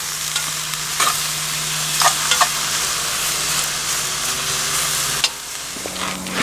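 Beef being stirred in a cooking pan over a campfire outdoors, scraping and clinking of the utensil against the pan over a steady sizzle, with a few sharper knocks.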